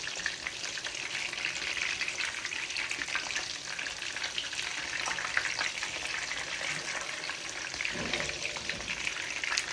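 Breaded pork chops fry steadily in hot oil in a pan at 340 degrees, giving a dense, continuous crackling sizzle that stays loud and close for the whole stretch, with a brief softer shuffle near the end.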